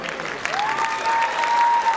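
An audience applauding at a live stage event honouring mothers, a sustained wash of clapping from a crowd heard under a long held sung or spoken tone.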